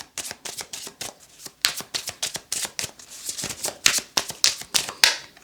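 Tarot cards are shuffled in quick riffling bursts, a dense run of sharp papery flicks that repeat rhythmically and up close, loud and alone without any talk.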